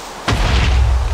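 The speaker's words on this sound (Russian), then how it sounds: "Отлично, они взорвались." Creepers blow up in Minecraft with a single sudden blast, followed by a loud, sustained low rumble that carries on to the end, with no voices.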